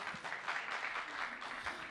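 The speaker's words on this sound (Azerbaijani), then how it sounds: "alqışlayırıq Ülvi Həsənzadəni" Audience applause after a live Azerbaijani deyişmə verse duel, a steady wash of clapping hands filling the whole moment at moderate level, with no voices.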